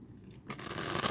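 A deck of trading cards is shuffled on a table, first soft and muffled, then a brisk, louder riffling burst that runs to the end.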